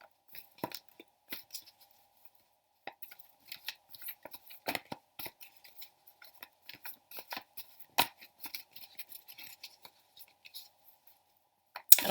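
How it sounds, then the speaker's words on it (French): Tarot cards being shuffled by hand, a run of quiet crisp flicks and riffles with short pauses between bursts, close up and otherwise silent. "Moi je préfère mélanger, brasser les cartes comme cela."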